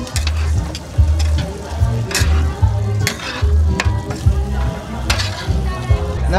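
Sisig sizzling loudly on a hot plate while being stirred with egg yolk, with repeated scraping strokes in a steady rhythm and a low background hum under the crackle.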